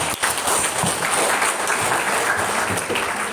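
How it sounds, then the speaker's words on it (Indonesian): Applause from an audience of teachers and staff at a school gathering after a professor's talk, brief dense clapping at moderate distance, with faint voices mixed in. "Tepuk tangan buat Prof. Zaki"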